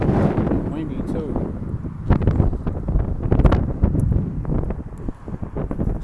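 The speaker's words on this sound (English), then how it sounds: "Windy too." Chilly wind buffets the microphone in loud, gusty bursts outdoors, with a person's voice talking underneath.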